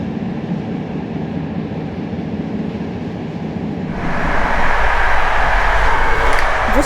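Intercity passenger train in Poland running, a steady loud rumble of wheels and carriage noise that brightens into a harsher rushing roar partway through, with no talk.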